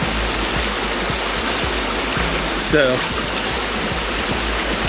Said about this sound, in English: you can see the hot water flowing down from the rocks over here